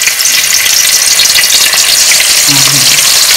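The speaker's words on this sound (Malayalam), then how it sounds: "നമുക്കിതിനി ഒരു പാത്രം വെച്ച് എണ്ണ ഒഴിച്ചൊന്ന് വറുക്കാം" Chicken pieces for butter chicken sizzle steadily in hot oil in a small pan, a loud continuous hiss with a brief low hum near the end.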